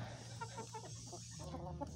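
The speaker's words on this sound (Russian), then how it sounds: "41 курица здесь." A coop holding about forty hens carries soft, overlapping clucks and murmurs, several birds at once, fairly close but quiet, with no one talking.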